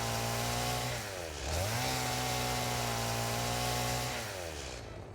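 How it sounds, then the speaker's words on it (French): Chainsaw cutting trees in the video game Satisfactory, a continuous buzzing whine that dips and rises in pitch as it bites, loud and close throughout. "Ils ont changé le bruit de la tronçonneuse aussi."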